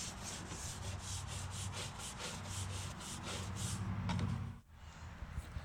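A lawn tractor mower deck from a Craftsman/Husqvarna machine is scrubbed clean with repeated rhythmic rubbing and scraping strokes, close and moderately loud, ending with a short pause and a few lighter scrapes.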